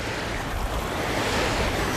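Ocean waves and surf wash in a continuous broad hiss, fairly faint and steady with a touch of wind and no voices.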